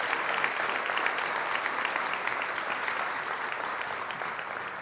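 A large audience at a city State of the City and employee recognition event applauds 2019 Life Saving Award and Employee of the Year recipients, a steady, even wash of many hands clapping at moderate distance, continuing without break.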